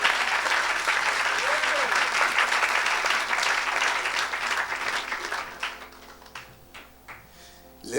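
Church congregation applauding loudly and steadily for about five seconds, then the clapping thins to scattered claps, with a few voices and musical tones rising beneath as it fades.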